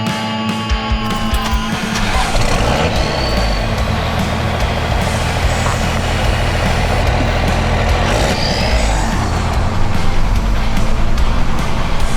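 A 1978 Ford Ranger with a swapped Cummins diesel engine on the road: a loud, continuous low diesel drone and road rumble heard from close by, with faint high tones, throughout the clip and without talking.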